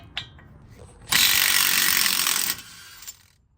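Impact or air tool spinning off the 32 mm axle nut on a Kia Telluride: one loud, steady mechanical whir lasting about a second and a half, with faint clicks before and after.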